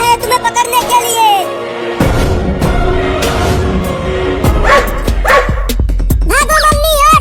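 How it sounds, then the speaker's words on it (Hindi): A cartoon dog chases a cat, giving a few sharp barks and yips over lively cartoon music and sound effects. "एक कुत्ता जा रहा है तुम्हें पकड़ने के लिए।"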